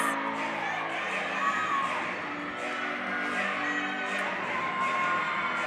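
Spectators cheer and whoop at a collegiate women's gymnastics meet as a gymnast performs her dance on beam, a steady, dense crowd roar with shouts rising and falling throughout.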